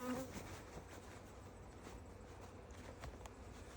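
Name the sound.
bees buzzing around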